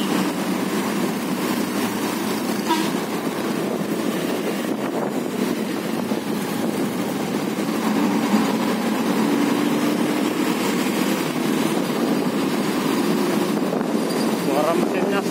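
Steady, loud engine drone of a Medan Jaya intercity bus running on a trip from Cikokol between Medan and Jakarta, a continuous low rumble with wind noise throughout, heard from on board.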